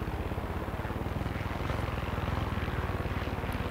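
A helicopter in the open-world shooter Far Cry 6 thunders continuously up close, its rapid rotor chop pulsing steadily over a dense, loud engine roar without pause.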